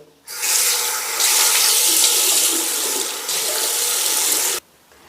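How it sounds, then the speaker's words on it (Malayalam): A tap runs steadily into a sink as a face is wetted, giving a loud, continuous hiss of splashing water for about four seconds before it stops abruptly. "ഇനി നമ്മൾ നമ്മുടെ ഫേസ് ഒന്ന് വെറ്റാക്കണം"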